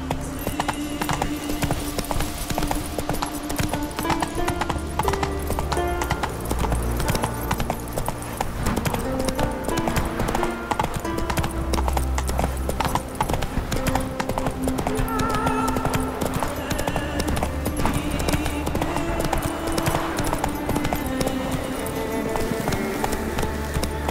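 Roach, a horse in Witcher 3, trots along with steady rhythmic hoof clops that continue through the whole stretch. The hoofbeats sound close and even, set against an ambient game soundtrack, with an occasional faint snort.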